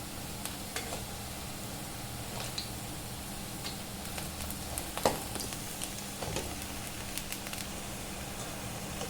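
Medu vada, urad dal fritters, deep-frying in hot oil: a steady soft sizzle with scattered small pops and crackles, close and moderately quiet throughout.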